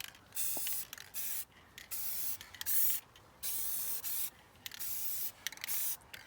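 Repeated bursts of aerosol spray paint hiss into a bucket of water, each lasting about a second with short pauses between, fairly close and steady.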